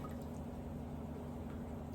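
Water poured into glass canning jars of mixed frozen vegetables, a steady low trickling fill running continuously and fairly quietly for the whole two seconds, with no talking.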